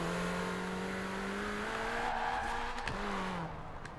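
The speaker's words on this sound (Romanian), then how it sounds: "Care sună bine, motorul original al mașinii." In Forza Horizon 4, a car with its stock engine revs up, its steady, rising engine note holding close and loud through a gear change near the end, with light tire noise underneath.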